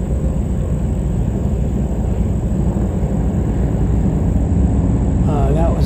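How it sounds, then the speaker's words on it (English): Loud motorcycles on Route 50 heard from the Montour Trail, a sustained engine rumble and roar that holds steady throughout, with a brief higher rattle near the end. "Motorcycles on Route 50. Boy, they were loud."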